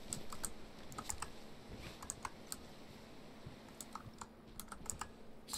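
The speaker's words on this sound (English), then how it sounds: "I'm typing in chat, by the way." Keys clatter in quick, uneven bursts on a computer keyboard while chatting in a game of DayZ Namalsk, soft and close over a low steady hum, with no voices.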